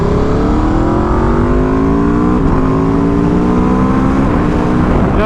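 A 2021 Aprilia RSV4 1100 sportbike engine revs loud and close, climbing in pitch through several upshifts in a continuous ride with steady wind noise.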